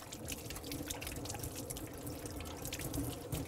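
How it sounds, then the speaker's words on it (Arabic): Running tap water splashes steadily over hands being rinsed at a kitchen sink, a continuous close trickle with small drips and no talk. "اشطف ايديا بس، اسلق طبعا بالصابونه"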